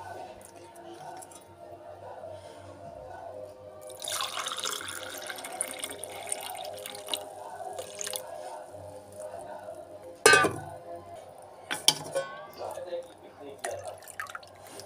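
Beetroot and carrot juice pours into two glasses with a soft, steady liquid trickle and dripping that swells midway, broken by a few sharp clinks of glassware near the end, with a voice speaking faintly underneath.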